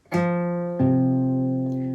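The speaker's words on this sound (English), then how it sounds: "So F strummed should sound like this." Two strums of an F barre chord on acoustic guitar, the second slightly louder, each sustaining and ringing clearly with no one talking.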